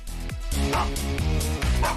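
A dog barks and yips in a live sports radio studio, a quick run of close, loud barks over a busy background.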